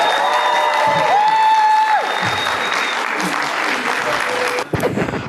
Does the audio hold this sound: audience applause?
yes